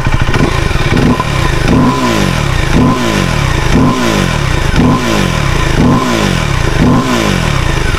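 A KTM Duke 390 EVO motorcycle engine revs up close and loud in a steady series of about seven sharp blips, each rising then falling back, with a thin whistling whine over the throaty exhaust.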